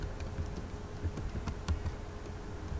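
Fingers type a short cd command on a computer keyboard in Ubuntu Linux, giving a few quiet, irregular key clicks over a low steady hum, with no speech.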